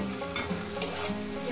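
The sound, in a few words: frying tomato with fish head, okra and potato in a pan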